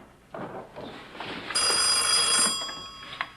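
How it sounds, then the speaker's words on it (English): A telephone bell rings indoors in a home, a sustained bright metallic ringing that starts partway through and continues for about a second before stopping, following some quieter household sounds. "Ruth Ellen, would you get the phone, please?"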